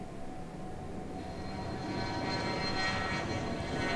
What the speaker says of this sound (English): We're gonna wait for the plane.